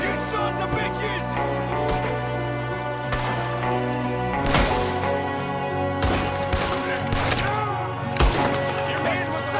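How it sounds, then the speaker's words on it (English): Repeated gunshots crack and boom during a shootout in Red Dead Redemption 2, several loud shots spread through the stretch over continuous game ambience and music, with voices shouting in between. "there's another one shooting from the window"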